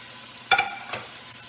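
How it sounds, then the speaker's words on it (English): Extra lean ground beef and ground pork browning in a pan, with two short scraping stirs that bring brief bursts of sizzle against a quiet background. "we've got to brown the ground meat"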